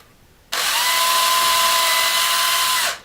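Close, loud power drill whines steadily while boring a pilot hole in cherry hardwood for a cabinet hinge, starting sharply, running about two and a half seconds alone, then tapering off.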